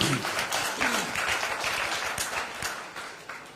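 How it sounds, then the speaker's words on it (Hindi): Applause from the audience at an agricultural products training session, a moderate crowd clapping steadily, with a voice speaking over it at times. "एक बार इनके लिए जोरदार तालियां होनी चाहिए"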